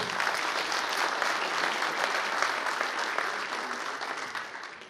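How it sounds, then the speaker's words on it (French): An audience at a veterans' association congress in Bessan applauds the ONAC director, a dense, even roar of many hands clapping that holds steady and eases slightly at the end. "On peut l'applaudir bien fort"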